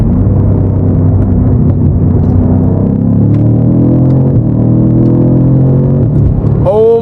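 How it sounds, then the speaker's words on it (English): A BMW F90 M5 Competition rumbles loudly in city traffic, its engine note climbing and falling through downshifts, ending with a sharp pop from the exhaust. "I'm gonna downshift a couple times for you guys to hear"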